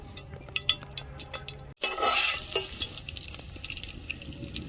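Dry red chillies and whole garam masala hit hot oil in a pan, setting off a sudden loud sizzle that settles into a steady crackling fry.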